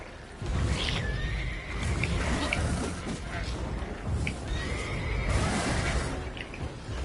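Horse whinnying in a monster-hunting video game, two drawn-out neighs rising and falling over a dense bed of game ambience, with a voice speaking now and then.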